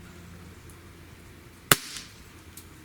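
A single sharp, loud crack from a Smith & Wesson CO2 pistol fired over a chronograph, a quick pop with a brief decaying tail, alone against a quiet background.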